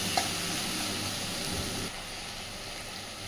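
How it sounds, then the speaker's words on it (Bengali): Raw green plantain curry paste stirred in oil in a pan over a low flame, with a steady soft sizzle and scraping that drops quieter partway through. "দেখুন নাড়তে নাড়তে বেশ সুন্দর তেল ছাড়তে শুরু করেছে"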